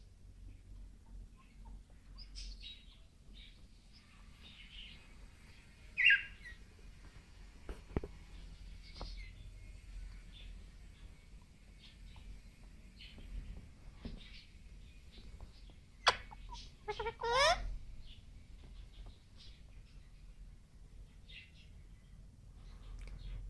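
Two ringneck parrots chirping to each other indoors, with faint, sporadic short calls and squeaks scattered over a low background hum, including a couple of sharper bursts, no talking.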